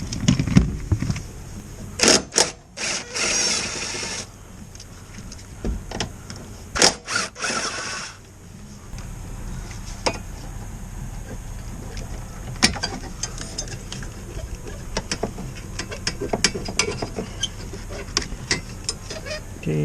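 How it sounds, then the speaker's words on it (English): A ratchet undoes 10 mm bolts during a heater core install on a second-generation Nissan Xterra, producing bursts of close clicking interspersed with clunks, rustling and pauses. "Then let's undo these bolts here."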